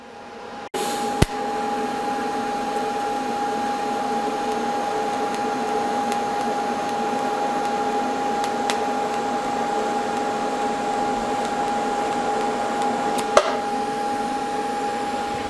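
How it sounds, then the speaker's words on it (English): DC TIG welding of 1/8 inch mild steel square tube on a YesWelder Firstess CT2050 machine: the arc starts with a click, then a constant steady buzzing hum with a thin tone holds for about fifteen seconds. "we're just going to do some straight up DC TIG welding"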